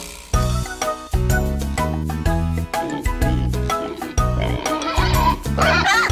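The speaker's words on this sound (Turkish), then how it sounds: "Üç küçük domuzcuk çamurda zıplar." Cartoonish pig oinks about three little pigs jumping in the mud, set in a bright Turkish children's song with music running throughout and the oinks repeating loudly in time with the tune.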